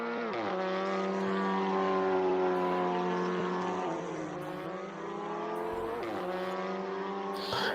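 WTCR touring cars lapping the Portugal circuit in Assetto Corsa, engine notes droning and climbing through gears with shifts and downshifts, a loud, continuous whine with no talk.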